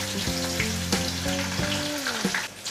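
Cumin, green chilies and curry leaves hit hot oil in a kadai, giving a loud, steady sizzle with a few sharp crackling spikes and a tonal melody running underneath throughout.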